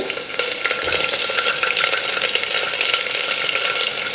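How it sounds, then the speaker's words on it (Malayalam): Onion and carrot sauté in a hot pan, giving a loud, steady sizzle with stirring scrapes throughout, close up and with no voices. "നന്നായിട്ടൊന്ന് വഴറ്റിയെടുക്കുക"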